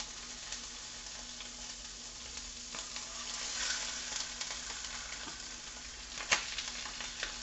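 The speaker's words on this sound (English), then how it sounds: "What we're doing is I'm browning it right now. I want to get it really nice and seared and brown" Chicken pieces sizzle and sear in a hot pan, a steady close frying hiss with occasional pops and a brief louder crackle near the end, with no talking.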